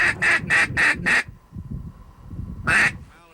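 Ducks in open fields of Vermilion Parish, Louisiana, quack loudly in a quick run of five calls, then one more after a pause, over faint low background rumble.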